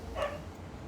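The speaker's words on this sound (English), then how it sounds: "Oh well, we'll deal with a few dog barks." A single dog bark rings out close by indoors, brief and moderately loud over a low background hum, with no voices present.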